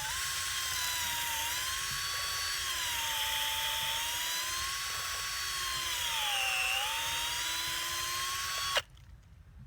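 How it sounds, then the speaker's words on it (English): A steady, high-pitched drill whine runs for several seconds as it bores a tap hole into a maple tree at an angle, wavering slightly in pitch, then cuts off abruptly near the end. "we're going to put another tap in here. And you always want to drill at an angle."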